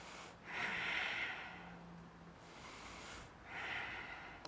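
Two slow, audible breaths taken close up while holding a yoga goddess squat, each a long airy exhale through the nose or mouth separated by a quiet pause, with no talking.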